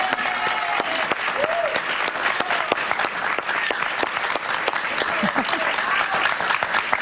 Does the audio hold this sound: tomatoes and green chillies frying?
no